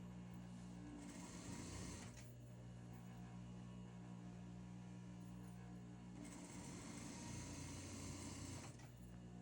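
Sewing machine stitching along a chalk line to take in suit pants at the waist, running in two sustained bursts over a steady motor hum, close and continuous.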